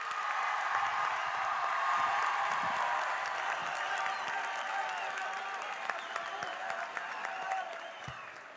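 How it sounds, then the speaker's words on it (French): High school students at a Lycée in rocks festival at the Zénith de Toulouse give sustained, dense applause with scattered claps and cheers, steady and then slowly fading slightly toward the end. "On va lui faire un tonnerre d'applaudissements"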